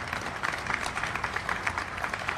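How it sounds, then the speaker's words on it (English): A modest crowd at a transit announcement outside a train station gives a round of applause, steady scattered clapping at moderate distance, fairly quiet and without speech. "give yourselves another round of applause"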